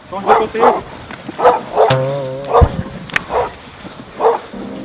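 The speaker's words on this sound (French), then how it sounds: "malgré qu'il y ait quelques chiens" Several dogs bark at an outdoor spot during a warm-up before a workout session, sharp repeated barks near and far, mixed in with people talking.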